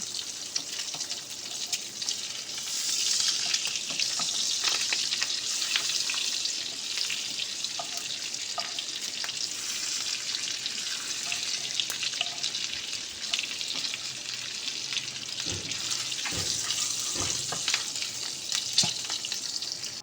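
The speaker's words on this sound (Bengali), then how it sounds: "খুব ভালো করে উল্টে পাল্টে ডিমগুলোকে ভেজে নেব।" Boiled eggs sizzle in mustard oil while being stirred and turned, with a constant close crackle and occasional clunks of the spoon against the pan, and no voices.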